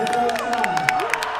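A tournament crowd at the Combo Breaker 2017 fighting game event cheers and screams for the BlazBlue Central Fiction champion, a loud sustained roar with whoops, under a commentator's excited talk.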